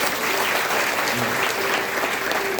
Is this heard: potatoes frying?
no